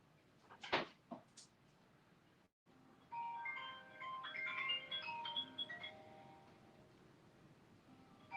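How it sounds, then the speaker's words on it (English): A phone rings with a melodic electronic ringtone indoors, a steady run of tones lasting several seconds after a few brief knocks, heard fairly faintly with no talking over it. "please answer the phone or turn the thing down."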